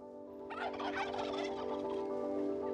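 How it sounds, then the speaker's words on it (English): Turkeys in a pastoral village setting gobble loudly and close by, a rapid warbling burst that carries on for a couple of seconds over a steady background hum. "Turkeys answer back."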